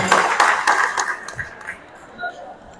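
A group claps briefly at a drug-awareness quiz event in Zamfara, starting in a quick burst of hands that trails off into scattered claps as someone talks.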